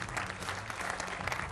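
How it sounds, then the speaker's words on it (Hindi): Studio audience on a Hindi television debate show clapping to welcome a guest, a steady dense burst of applause from many hands filling the short moment. "तालियों के साथ स्वागत कीजिए।"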